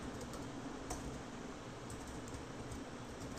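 Soft keystrokes on a computer keyboard as code is typed, a sparse irregular tapping over a faint fan-like hum, quiet and close, with no voices.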